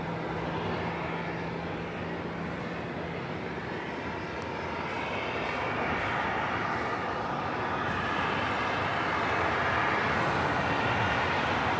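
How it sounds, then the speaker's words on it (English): A JetBlue Airbus A321 jet taking off at Los Angeles airport, a distant broadband engine roar that slowly swells and grows louder toward the end, heard alone without talk. "JetBlue Flight 1388, A321 in the newer livery. Will be taking off here, third in line."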